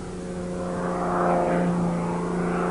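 An aerobatic airplane flies past with a continuous engine drone that swells slightly toward the middle, then holds steady, fairly close and heard alone.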